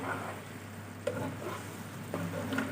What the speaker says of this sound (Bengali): ক্যাপসিকামটা দিয়ে কিছুক্ষণ খুব ভালো করে নাড়িয়ে নিয়ে দিয়ে দিচ্ছি